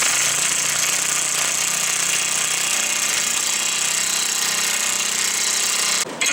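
On a 2006 Hyundai Sonata, a wheel stud is drawn through the hub with washers by a loud, continuous rattling impact tool that hammers steadily for about six seconds before cutting off abruptly, with no talking.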